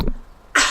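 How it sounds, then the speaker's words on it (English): A single sharp, harsh cough bursts out loud and close after a brief muffled sound and a quiet pause, heard over Farming Simulator 19 gameplay. "that cough had been brewing for quite a while"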